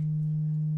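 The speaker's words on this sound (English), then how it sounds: "triangle" A System 55 modular synthesizer produces a triangle wave: a steady, mellow low-pitched tone with a soft edge, held at constant loudness throughout, with no other sounds.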